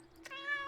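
A cat in the video game Kentucky Route Zero lets out a single short, clear meow, close and alone.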